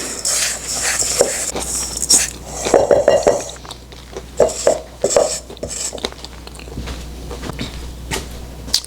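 Cheesecake filling for a Snickers cheesecake being mixed by hand in a bowl, with close, irregular scraping, tapping and soft squishing of the utensil against the bowl, rising and falling in short bursts.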